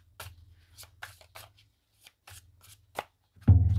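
Tarot cards shuffled by hand, several short papery riffles and flicks spread across the clip with brief pauses, ending in a louder burst as cards jump out of the deck, close and with no talking.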